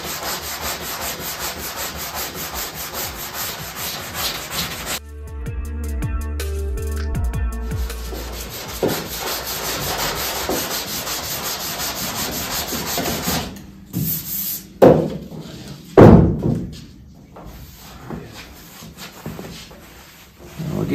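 Close, rhythmic strokes of 320-grit sandpaper rub across filled, curved bodywork on a 1968 Pontiac Firebird under restoration, steady at first, then a pause and slower, uneven passes with a few handling knocks.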